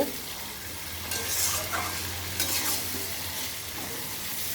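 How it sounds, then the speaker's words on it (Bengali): Mutton sautéing in a pan with ginger, cumin, garlic, dried and fresh green chillies, a loud continuous sizzle and hiss with a spatula scraping and turning the pieces now and then. "এটা মটনটা কষা হচ্ছে"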